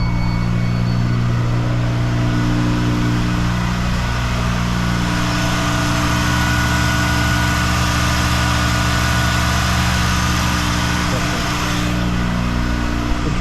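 A Mazda RX-7 rotary engine idles unevenly up close, a steady loud rumble with a wavering, uneven pulse running through the whole stretch, alone without talk.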